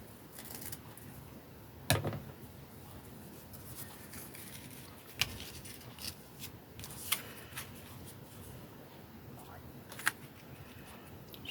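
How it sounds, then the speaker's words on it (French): Scissors cutting paper for a handmade Mother's Day card, with a few sharp snips spread out among soft rustling paper handling, close and fairly quiet. "Je vais couper"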